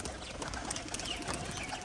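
Pigeons coo and rustle softly at close range, with faint fluttering in a quiet setting.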